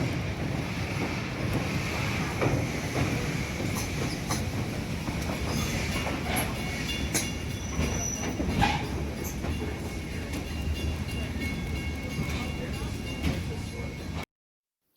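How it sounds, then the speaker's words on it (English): A train on the Wilmington Western Railroad rumbles steadily along the tracks, a continuous rolling clatter with gusts of wind buffeting the microphone throughout. "the train was back underway"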